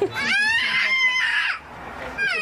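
Young children scream and wail at a high pitch in the back seat of a car, loud and close, in sustained rising and falling cries with a short lull.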